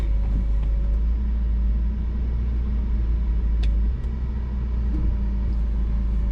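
A BMW E46 engine hums at a steady low rumble while the car drives, with a constant close drone and only slight shifts in tone.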